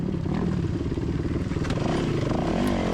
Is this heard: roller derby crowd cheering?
no